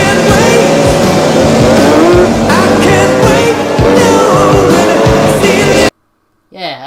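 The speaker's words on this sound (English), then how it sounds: "They have an epic race through the desert bikes." Dirt bikes race through the desert in the film The Lost Boys, with loud, continuous engine roar and revving, squeals and scrapes layered on top, ending abruptly in a sudden cut to near silence.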